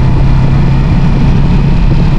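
A TMX Alpha 125 motorcycle with sidecar and a 15/45 sprocket runs with a steady, low engine drone, loud and close, with no clear changes in pitch.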